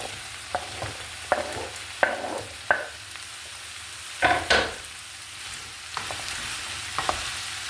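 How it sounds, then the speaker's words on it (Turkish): Chopped potatoes and carrots land in a hot pan of artichoke and meat stew base, followed by a sizzle and scraping stirring sounds in uneven bursts, close to the microphone. "Patates ve havucu da ekliyorum."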